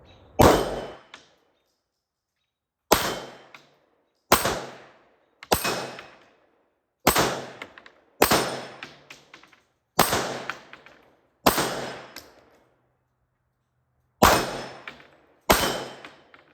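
A CZ 9mm pistol fires at targets outdoors, ten loud single shots spaced a second or more apart, each sharp crack followed by a short ringing decay, with no talking.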